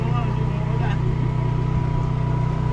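Electric motor on a kayak running steadily, a low hum with a constant tonal drone just under 200 Hz-ish pitch, close and continuous, with people talking over it.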